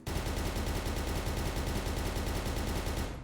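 TACR-H rifle in One Armed Robber firing a continuous rapid automatic burst for a recoil test, dense evenly spaced shots, loud and close, cutting off abruptly at the end.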